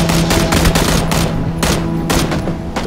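Rapid gunshots in PUBG: a string of sharp, loud reports in quick succession, with brief pauses between bursts over a steady background hum, and no talking.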